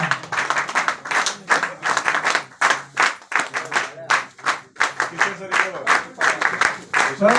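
Sustained applause from a seated audience at a felicitation ceremony where guests are garlanded and given shawls, with dense clapping in uneven bursts throughout and a voice talking over it.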